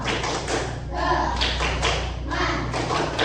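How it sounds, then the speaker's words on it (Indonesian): Students in a class run through a patterned clapping chant, with sharp claps and taps arriving in regular clusters over a low steady hum, and voices faintly underneath. "Sekali lagi, tepuk menolong."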